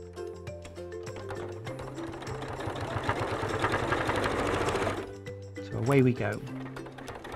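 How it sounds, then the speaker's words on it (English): A sewing machine stitches a quarter-inch seam on a fabric pouch section, its rapid mechanical whir rising for several seconds before stopping, with a voice speaking before and after. "I'm going to sew this section"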